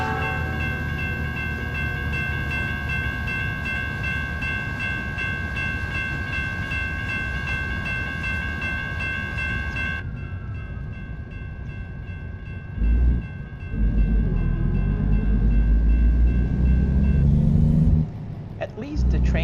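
A train passes in the American Truck Simulator video game, with a sustained tonal horn blast over a low rolling rumble. The horn cuts off abruptly, leaving engine and road noise with a few louder thumps.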